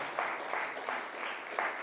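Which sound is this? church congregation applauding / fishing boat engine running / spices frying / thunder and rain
church congregation applauding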